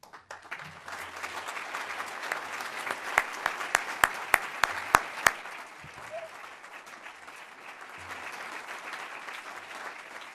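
A forum audience at the City Club of Cleveland claps in a steady, full round of applause, with a few sharp, close individual claps standing out midway before the clapping eases slightly toward the end.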